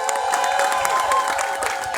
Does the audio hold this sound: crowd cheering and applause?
yes